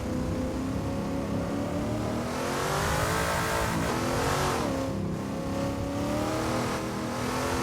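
A turbocharged car in the Assetto Corsa racing game revs its engine up to redline, a loud, continuous, rising engine roar that peaks and then holds high, alone with no talk.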